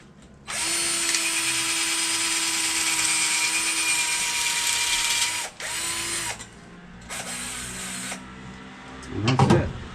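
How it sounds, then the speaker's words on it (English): A power drill bores into wood framing during a shower build inside a Nissan NV350 van, whining loudly for about five seconds, then two shorter bursts follow with a clatter at the end. "Next, go ahead and drill it."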